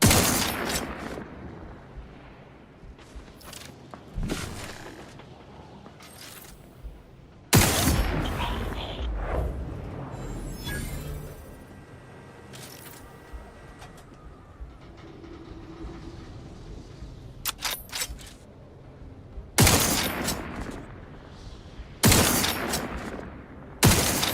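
Gunfire in the video game The Outer Worlds 2: loud, sharp bursts of shots in several clusters, some rapid and automatic, over a rumbling ambient background with quieter stretches between volleys.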